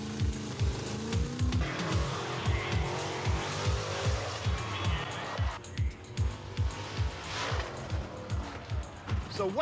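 Loud car engine noise with repeated revving bursts and tire squeal at a monster truck event, rhythmic engine pulses throughout, with a crowd roar building in the background.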